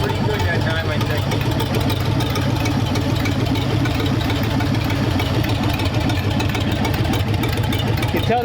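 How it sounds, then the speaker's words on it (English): A hopped-up Ford flathead engine built for a 1932 roadster runs steadily at a close, even idle with a quiet valve train, a constant low rumble throughout with no break. "Listen how quiet that valve train is."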